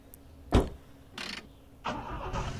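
In The Long Drive game, a car fitted with a brand new engine cranks with a sharp click and brief turnover bursts, then catches into a low running rumble, close and fairly quiet.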